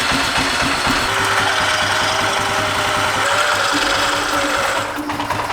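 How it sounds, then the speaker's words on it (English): An electric winch motor on an ATV reels its cable back in, giving a steady, loud, close mechanical whir and hum that runs unbroken for several seconds. "I'm going to try to see if this winch will go back in"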